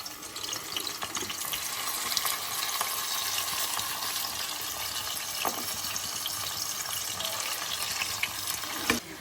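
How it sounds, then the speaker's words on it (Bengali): Fish parcels wrapped in bottle gourd leaves frying in hot mustard oil, a continuous hissing sizzle with occasional soft clicks and knocks as pieces are placed in the pan. "তেলটা আমার গরম হয়ে গেছে এইবার আমি প্রত্যেকটা মাছ এরকম করে সাজিয়ে দিয়ে দেবো"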